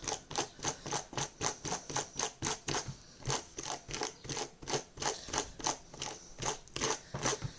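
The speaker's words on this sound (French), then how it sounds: "je vais brosser au fur et à mesure dessus" Detangling hairbrush pulled repeatedly through strands of rope: a fast, even series of scratchy, rustling strokes, close and fairly loud, with a brief pause partway through and no voices.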